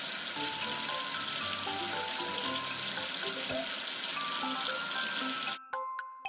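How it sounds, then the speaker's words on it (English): Running water splashes steadily while rinsing soap off a toy number two, broadband and continuous for about five seconds before cutting off, followed by a few faint light clicks. "Wash away the soap with water."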